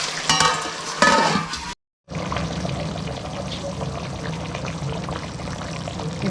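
Fish pieces fry in oil in a pan for a Telugu fish curry, giving a steady close sizzle with brief pouring and stirring sounds near the start, a short break, then continuous bubbling crackle.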